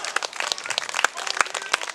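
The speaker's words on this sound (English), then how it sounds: "But please give them another round of applause" An audience at an outdoor festival poetry set claps for two poets, a short, fairly close patter of overlapping hand claps with no voices.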